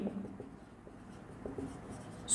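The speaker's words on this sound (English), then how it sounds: "So see here, I will write one example." Marker or chalk scratches across a board as a teacher writes out an example sentence in a lesson on finite and non-finite verbs, giving quiet, intermittent strokes with room hum under them and no talk.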